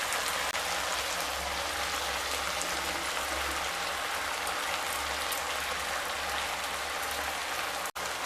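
Rice pours into a pot of simmering, half-cooked chicken, a dense, steady rattling hiss like rain that runs close and even for several seconds before stopping abruptly.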